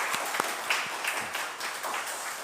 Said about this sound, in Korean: 인사할 때에 크게 축하에 박수하겠습니다